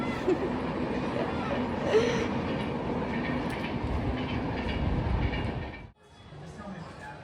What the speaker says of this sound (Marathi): ट्रेन आहे आता ती ट्रेन आपल्याला इथे दिसेल हे बघा